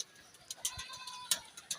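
Pigeons cooing on a rooftop, a few soft low coos mixed with light flutters and scattered clicks, heard fairly close against quiet surroundings.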